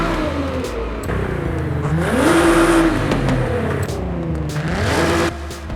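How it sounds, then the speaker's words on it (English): A 2024 Nissan Z NISMO exhaust in Forza Horizon 5 revs repeatedly, the engine note climbing and falling in two strong sweeps, loud and close with no talk. "why don't we go and have a look at the exhaust sound"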